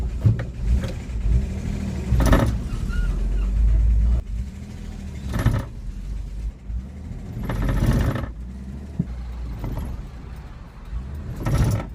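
A Chevrolet Corvair Greenbrier van drives along, its engine droning steadily, with repeated clunks and rattles of shifter and clutch clatter coming through in bursts.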